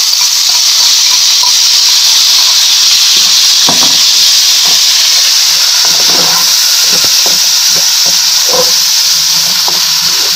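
Tomato paste added to onions frying in hot oil in a pot, cooking for a mixed vegetable pulao: a steady, loud broadband sizzle and hiss throughout, with occasional soft stirring clicks and no talking.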